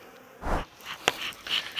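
Bees buzz close by in short, uneven bursts, with brief quiet gaps between passes.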